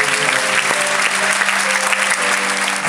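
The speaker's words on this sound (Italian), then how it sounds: "Un applauso del pubblico pagante." A paying audience at a live concert bursts into dense, steady applause, loud and continuous throughout, with a faint sustained musical tone underneath.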